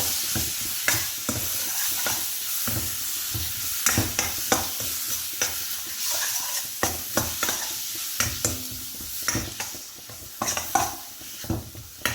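Fish pickle frying in a pan while a utensil scrapes and stirs it, irregular clacks of spoon on metal over a constant hiss of oil, close and fairly loud, no talking.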